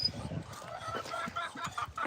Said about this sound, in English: That white chicken.